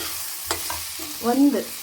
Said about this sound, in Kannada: ಒಂದೇ ಒಂದು ನಿಮಿಷ ಇದನ್ನ ಸ್ವಲ್ಪ ಖಾರದ ಹಸಿ ವಾಸನೆ ಹೋಗೋವರೆಗೂ, ಅರಿಶಿನ ಪುಡಿದು ಹೋಗೋವರೆಗೂ ಹುರಿಯೋದು